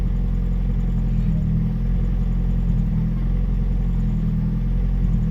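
A 1997 Honda Civic EJ8 idles steadily after starting, its engine block freshly bored, line-honed and balanced by a machine shop, giving a close, continuous low rumble with no talk.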